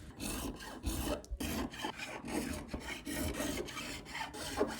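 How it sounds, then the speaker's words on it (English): A file rasps back and forth across the frets of a vintage West German guitar, a quiet, rhythmic scraping in repeated strokes with brief pauses. "Now it's time to level all of the frets"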